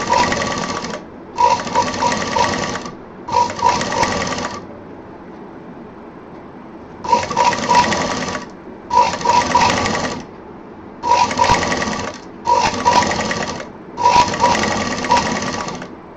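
Sewing machine stitching fabric runs in repeated loud, close bursts of one to two seconds, separated by short pauses and one longer gap, with a steady mechanical whir in each run.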